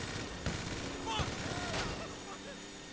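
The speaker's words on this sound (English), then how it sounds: "Minigun." Minigun fire in GTA Online rattles over a low background rumble, with a few sharp bursts standing out and a person talking over it.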